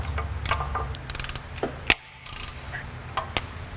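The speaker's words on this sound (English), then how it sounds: "Let's watch Eric turn some bolts" A ratchet turns bolts on the exhaust header of an Acura Integra, giving quick runs of close, crisp clicking in short bursts with brief pauses between them and no talk.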